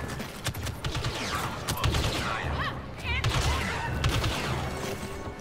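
Blaster gunfire in Star Wars Battlefront II crackles in a steady, busy barrage. Mechanical clatter and electronic whines rise and fall through the mix, and in-game voices call out over the shooting.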